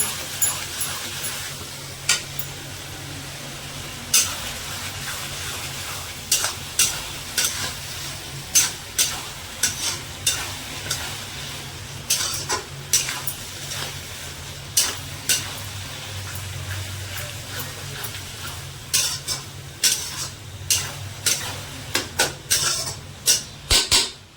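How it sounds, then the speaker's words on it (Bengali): Mutton masala spices for a Bengali curry being stir-fried in a pan, a steady sizzle beneath repeated sharp scraping and clinking of a spatula against the pan at an uneven rhythm, close and fairly loud, with no talk. "ভালো করে মশলাটা কষবো পুরো"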